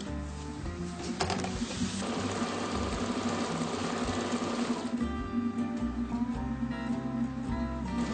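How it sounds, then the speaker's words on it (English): An electric sewing machine stitches apron ties made of waterproof, oil-proof fabric, running in a steady close mechanical whir and rattle with a brief pause and restart before continuing evenly. "And you sew all the way down to the tip."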